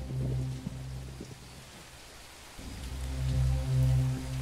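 Rain falls in the horror cooking game MEAT as a steady hiss over a low droning hum that dips briefly in the middle, with no voices.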